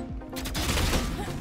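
Gunfire in the video game Valorant, a quick cluster of sharp shots layered over dense game noise, loud and close in a brief burst.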